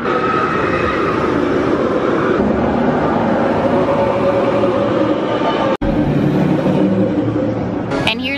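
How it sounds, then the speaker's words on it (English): A Disney park ride train running through a tunnel as a steady, loud rumble with rail rattle, holding constant for about eight seconds with a brief sharp dropout near the end. "The side of the tunnel where the train is actually currently going through right at this moment."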